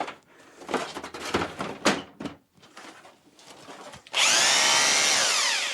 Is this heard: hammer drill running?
yes